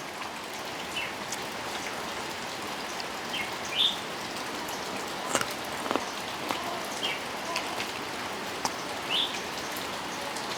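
Heavy rain falls steadily on a rural home, a dense, constant hiss with scattered louder drops, while a few birds chirp faintly in the background.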